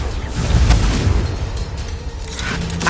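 A Confringo blasting spell detonates in a Harry Potter video game, loud rumbling booms and crackling debris rolling on for about three seconds with a fresh burst near the end.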